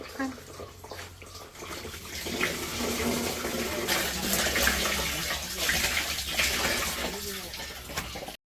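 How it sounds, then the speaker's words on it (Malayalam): Water pours and splashes steadily for several seconds during arrowroot flour making, close by, with a brief voice at the start. "ഇങ്ങനെ വെള്ളം ഒഴിച്ച് കാണിച്ചു തരുന്നത്"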